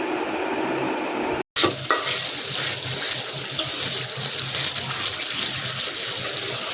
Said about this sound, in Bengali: আমি এখন মশলা কষাচ্ছি মাংসের জন্য।